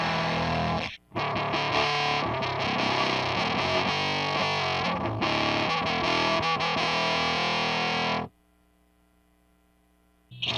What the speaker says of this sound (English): I must have attempted to clone the Revv probably at least 10 times, and they just turned out freaking horrible